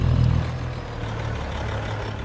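A truck engine in the farming video game Farming Simulator 25, on the Dakota 16x map, drones at a steady low idle, slightly louder in the first half-second, then holding an even rumble with no talk.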